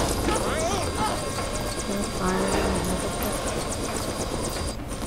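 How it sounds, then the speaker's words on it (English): Helicopter approaching in the LEGO The Lost World video game, a loud continuous rotor and engine drone held steady throughout, with game voices speaking over it. "There's another chopper coming!"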